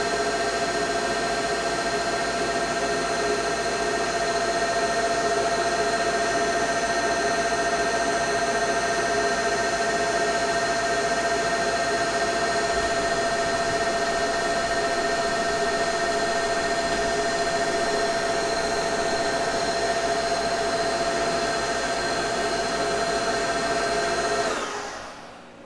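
A Monarch 10EE lathe machining a Mini-14 gas bushing, running at around 3,000: a steady, loud, continuous mechanical whine with layered tonal hum. It holds constant for about twenty-five seconds, then winds down abruptly at the end.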